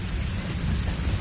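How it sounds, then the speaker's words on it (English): Desert storm weather in the video game Metal Gear Online: a steady roar of rain-like hiss and low rumbling wind, continuous and loud for the whole brief stretch, with no voices. "it's a desert storm"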